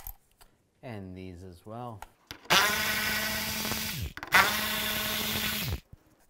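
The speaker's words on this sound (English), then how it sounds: "Take these bolts out on both sides, use a 10 millimeter socket." A power ratchet spins a 10 mm socket to remove the grille bolts on a 2015-2020 Cadillac Escalade, giving two loud, steady buzzing runs of about one and a half seconds each. Someone speaks briefly just before them.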